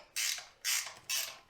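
A 1/2 inch ratchet spanner turns bolts during the strip-down of a 1991 Range Rover, giving three rapid, close clicking ratchet bursts in a steady rhythm.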